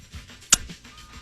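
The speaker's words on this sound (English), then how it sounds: "That was the sound of kissing fingers." A chef's kiss made by kissing fingertips: one quick, sharp smacking click, fairly faint and isolated, with a quiet background before and after.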